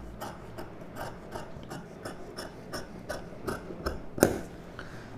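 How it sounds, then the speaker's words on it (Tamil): Scissors cut blouse fabric at the neckline, making faint, crisp snips and rasping slides in an uneven rhythm, with one sharper click near the end. "இப்போ நெக்கு கட் பண்ணிக்கலாம்."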